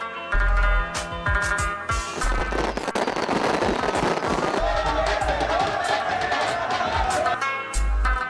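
Fireworks at a 2022 by-election victory celebration in Karachi crackle and bang repeatedly over a cheering crowd, with deep booms at intervals and a dense, continuous sparkle of pops.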